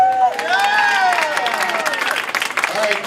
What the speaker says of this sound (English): Applause for